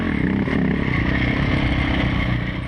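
A rally motorcycle pops a wheelie on a stage of the International Rally of Mongolia, its engine roaring loud and close with a steady, rough drone and some rattling.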